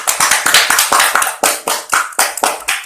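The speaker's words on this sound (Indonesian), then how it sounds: "Beri tepuk tangan." Students in an Islamic studies (Fiqih) primary-school class clap together in a quick, steady rhythm, a dozen or so sharp, loud claps of a small group close by with no talk.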